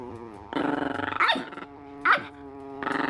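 A dog growls in low, rumbling bursts lasting a few seconds, close and fairly loud, broken by a couple of sharper yelping whines while resting on a lap among several other dogs.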